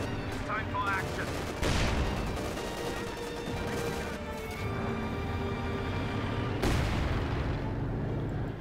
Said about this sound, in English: Nasty bit of shooting going on there.